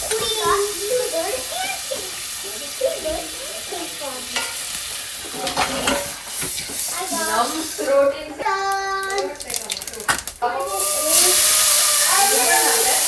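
Paneer fries in a pan, giving a sizzling hiss with scraping stirs under a voice talking, then a louder steady sizzle near the end.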